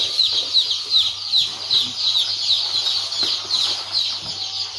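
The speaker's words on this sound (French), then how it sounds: "On peut remarquer ici que les poussins sont en pleine forme." Many chicks peep continuously in a poultry house for broiler chickens or laying hens, a dense high chirping chorus over a low steady hum of equipment.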